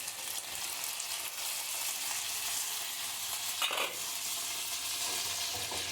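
Potatoes fry in a pan and get stirred, a dense steady sizzle close by with a brief scrape of the spoon partway through, and no talking.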